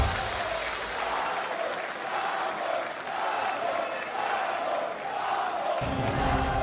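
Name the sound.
esports tournament crowd cheering and applauding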